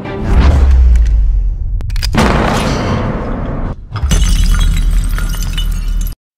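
In the film Villains (2019), a dropped doll shatters with a loud, sharp crash in a dramatic movie scene, followed by more booming, clattering bursts over several seconds.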